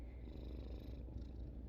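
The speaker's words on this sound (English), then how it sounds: "She purring now." A sleepy cat that had been dozing on a couch purrs steadily and close up, a soft continuous low rumble with no talking over it.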